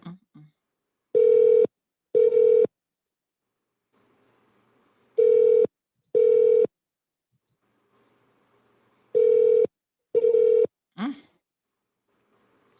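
A telephone call rings unanswered: three pairs of loud, steady double rings separated by silent gaps, followed by a brief sigh or voice at the end.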